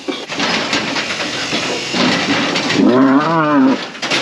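A cow on a farm at housing time gives one loud, wavering moo near the end, after a stretch of hissy barn noise; close and clear.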